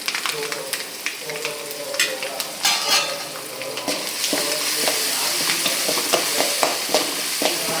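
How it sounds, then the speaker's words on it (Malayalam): Crushed onion and dried red chilli fry with mustard seeds in a pan, a steady close sizzle broken by scraping stirs and light metal clinks of a spoon against the vessel. "നമുക്കിതിലേക്ക് രാവിലെ ചതച്ച് വെച്ചിരിക്കുന്ന ഉള്ളിയും വറ്റൽ മുളകും കൂടെ ചേർത്ത് കൊടുക്കാം"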